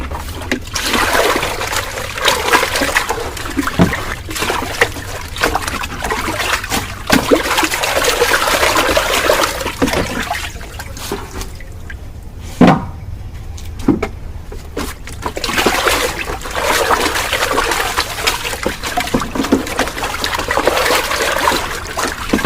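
Cut-open used plastic cans being rinsed with water for terrace garden planters, a steady trickle and splash with intermittent sloshing and knocks, briefly quieter midway, close by with no talking.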